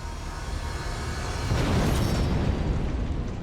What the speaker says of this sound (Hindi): धमाके में मारा गया संदेश और जयचंद